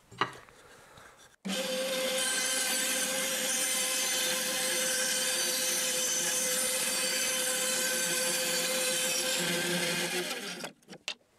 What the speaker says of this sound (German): werden jetzt einfach mal einen Kreis sägen mit 10 cm Durchmesser